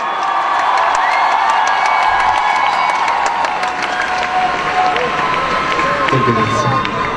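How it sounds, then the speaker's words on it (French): Crowd at a 2012 French cosplay event applauding and cheering for costumed Ganondorf, Link and Zelda from Zelda Twilight Princess, a steady loud wash of clapping with scattered whoops and voices throughout. "On les applaudit"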